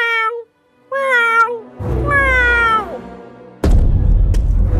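Cartoon cats meow in a Vietnamese animated fairy tale, several loud, drawn-out, wavering meows one after another, with a thud and rough noise breaking in near the end.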